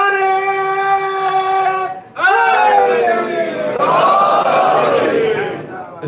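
Crowd at a Shia majlis chanting religious slogans in unison, loud and close, with a sustained harmonic chant, a brief pause, then a second surging call-and-response wave.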